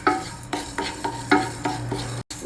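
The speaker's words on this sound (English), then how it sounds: "take about 2 tablespoons of moong dal and dry roast it in a pan" Moong dal dry roasting in a pan, heard as repeated scraping and rattling strokes of stirring, close and fairly loud, with a brief silent gap near the end.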